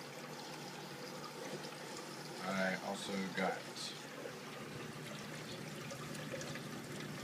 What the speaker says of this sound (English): I got a real return nozzle, which offers really good water surface agitation.